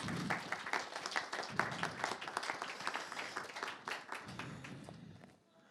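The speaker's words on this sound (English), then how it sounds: "Give them a big round of applause." Steady applause at an international forum on Ukraine, honouring the technical team: brisk, close clapping from an audience that thins out and stops near the end.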